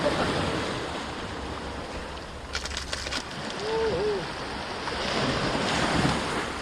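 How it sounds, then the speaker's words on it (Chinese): Strong wind buffets the microphone while sea waves surge and wash onto a beach shore, a steady, rough roar that swells and eases throughout. "今天遇到大风了"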